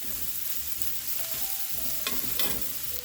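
Fajita vegetables sizzle steadily in a hot pan while being stirred, with scraping and clacking of a utensil rising near the end.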